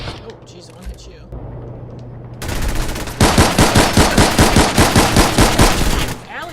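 Rapid automatic gunfire in Fallout 4 rattles out in a loud, evenly spaced burst of about a dozen shots, preceded by lower game noise and a shorter spray; voices are present.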